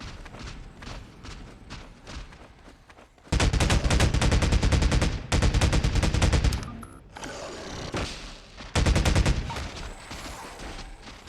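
Gunfire in the Half-Life 2 video game on Xbox. Loud, sustained bursts of rapid automatic fire come in long stretches broken by short pauses, and quieter game sounds fill the gaps between the bursts.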